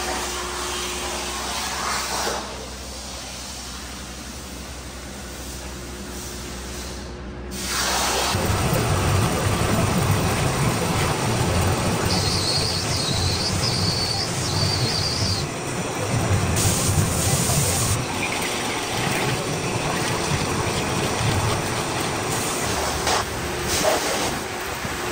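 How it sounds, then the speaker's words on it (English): Line boring machine cutting a cast iron John Deere differential housing, a steady loud machining drone that begins after a quieter stretch and continues throughout, with a faint whine and hum of the motor. "now we're gonna start machining that piece"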